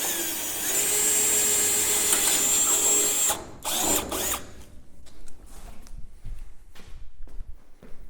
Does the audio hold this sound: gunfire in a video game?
no